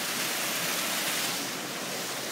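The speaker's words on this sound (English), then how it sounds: "I have a little waterfall." A small backyard waterfall splashes steadily beside a fish pond, making a continuous broad hiss of falling water that stays even and close with no talk over it.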